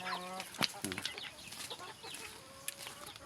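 A chicken from Davao Oriental clucks up close in a few quick bursts at the start, followed by quieter scattered clucking and faint outdoor background noise.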